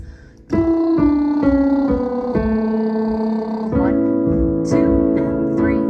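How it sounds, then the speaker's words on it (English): A singer does a lip trill warm-up, a buzzing, fluttering voiced tone gliding through a series of stepped pitches, sustained and close for several seconds. "or you can do on a lip trill or a lip buzz."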